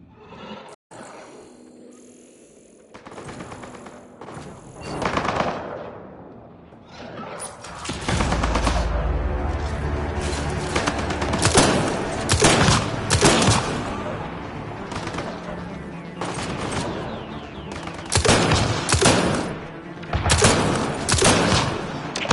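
Turret gunfire in Mass Effect Andromeda, a quiet opening giving way to sustained loud automatic bursts with repeated sharp shots over a rumbling battle bed, some faint voices mixed in.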